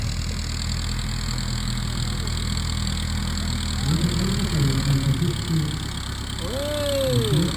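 A small aircraft taxis at an air show, its engine droning steadily with rising and falling pitch sweeps as it moves, and people talk over the sound in the background.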